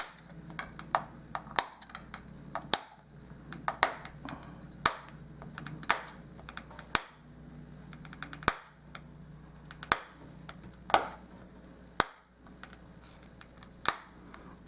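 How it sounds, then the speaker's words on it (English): A knife blade chops soft miniature dollhouse holiday stuffing on a cutting surface, sharp quiet taps in irregular quick succession, close and faint with no voices. "I'm going to see if I can chop some of this fine enough with my blade so I don't have to shred this one."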